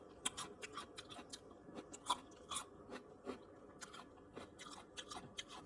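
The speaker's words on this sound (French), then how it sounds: "Franchement, il n'y a pas mieux de déguster une bonne assiette de légumes crus" Close, crisp crunching of raw vegetables, including carrots, being chewed in an ASMR eating session, with irregular bites and crackles repeating steadily against a quiet background.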